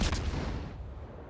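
Naval shell fire in World of Warships, a single loud deep boom at the start that rolls off into a fading rumble.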